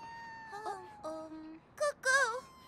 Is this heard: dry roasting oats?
no